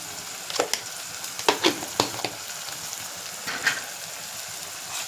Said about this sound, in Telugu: ఇందులోనే ఇవి ఫ్రై అవుతున్నాయి కదా